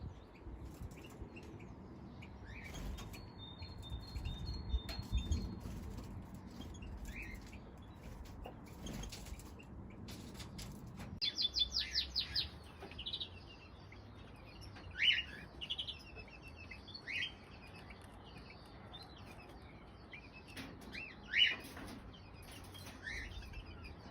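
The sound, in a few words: crossbills calling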